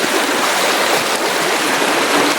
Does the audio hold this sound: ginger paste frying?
no